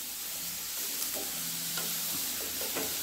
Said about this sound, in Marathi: हे बघा थोडं 1 मिनिट परतून घ्यायचं आहे